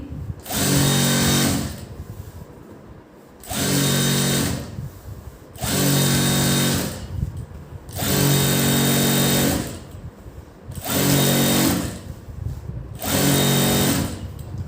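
A sewing machine runs in bursts while stitching a back seam, each stretch of steady whirring stitches lasting a second or two and separated by short pauses, loud and close with no voices.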